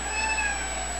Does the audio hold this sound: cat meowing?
yes